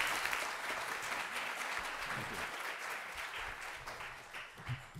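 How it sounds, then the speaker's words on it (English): Festival film audience applauding at Ebertfest, a dense continuous wash of clapping from a crowd in a theatre, steady throughout and slowly thinning toward the end. "And a round of applause for our far-flung correspondents."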